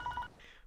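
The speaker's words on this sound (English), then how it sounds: "The phone is ringing." A telephone rings in two short, evenly spaced electronic tone bursts, faint and brief, with a low background hum behind it.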